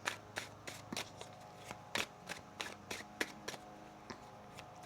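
Tarot cards being shuffled by hand, a series of close, crisp riffling snaps spread at irregular intervals over a few seconds in a quiet room.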